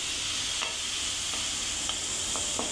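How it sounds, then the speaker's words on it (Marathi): Semolina (rava) roasting in a pan gives a steady, dense hiss, with a few soft stirring scrapes at regular intervals and no voices. "रवाई असं भाजलंय बघा."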